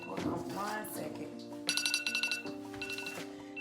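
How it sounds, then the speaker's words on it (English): A pet food feeder's alarm rings indoors in repeated bright electronic beeps, starting mid-clip and running to the end, with a person talking over it and background music. "that's Bishop's alarm for his food"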